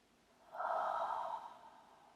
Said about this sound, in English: Breathe slowly.